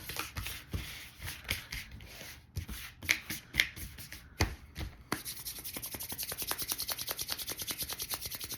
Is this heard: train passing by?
no